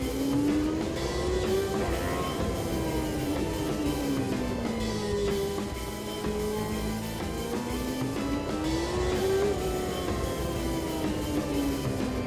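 A race car engine in the racing game Automobilista 2 drones loud and continuous, its pitch climbing and dropping repeatedly through gear changes while cornering on track.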